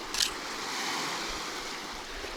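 Waves washing against the shore of the Khadzhibey estuary at a carp fishing spot under a tree, a steady broadband surf wash with wind on the microphone and one brief louder splash near the start.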